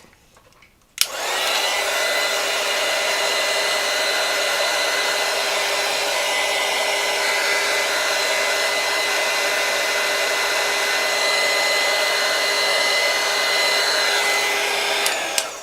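A hair dryer blows steadily on a watercolor painting, switching on after about a second and running loud and unbroken at close range with a constant whirring hum until just before the end.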